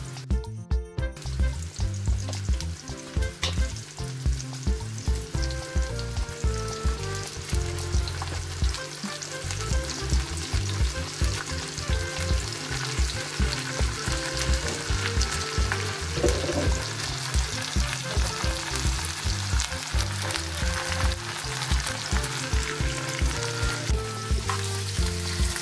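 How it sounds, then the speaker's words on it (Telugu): Onions, curry leaves, green chillies and coriander fry in hot oil for chicken curry, a loud, continuous crackling sizzle with a steady pulsing texture that runs without pause and without any talking. "నూనె వేడెక్కాక ఆనియన్స్, కరివేపాకు, పచ్చిమిర్చి, కొత్తిమీర వేసేసుకుందాం."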